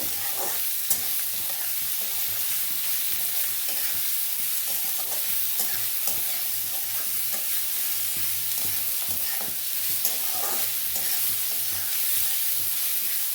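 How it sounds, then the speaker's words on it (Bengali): Chopped onion frying in oil in a pan while a mutton and potato curry is being cooked, a steady close sizzle with faint stirring scrapes throughout and no talk. "পেঁয়াজটা একটু ভেজে যায়"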